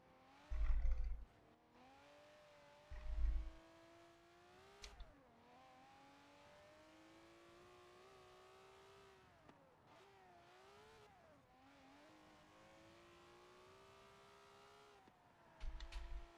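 A Ferrari V12 race car in Forza Horizon 4 revs steadily through rising and falling gear pulls on a Le Mans lap, its harmonic engine tone continuous throughout, with a few heavy low thumps near the start and end.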